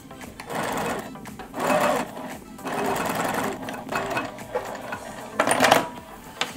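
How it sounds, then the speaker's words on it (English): A sewing machine stitches fabric for a bucket hat in several bursts of rapid mechanical whirring and clatter separated by short pauses, close and clear, with faint background sounds. "Turn on the sewing machine too."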